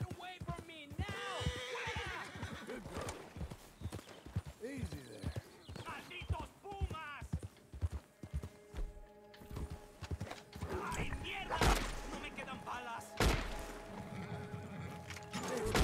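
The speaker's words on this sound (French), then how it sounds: "Ah ouais, il y a des chevaux un peu partout." Horses in Red Dead Redemption 2 trot with a steady clip-clop of hooves, and one neighs. Someone talks over them for most of the stretch, and a few sharp game noises cut in near the end.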